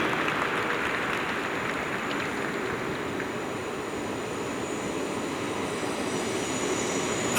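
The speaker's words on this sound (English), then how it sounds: "I'm gonna let the train go by." A train rolls past near an outdoor city event in Bridgeport, making a continuous broad rumble and rush at an even level for the whole stretch. There is no talk over it.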